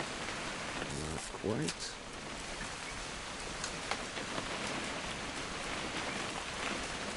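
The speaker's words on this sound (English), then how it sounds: "It's gonna rain the whole weekend, isn't it?" Rain falls steadily in the video game What Remains of Edith Finch, a constant hissing patter. A short spoken line sits over it.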